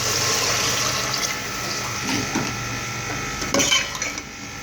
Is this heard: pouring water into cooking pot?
yes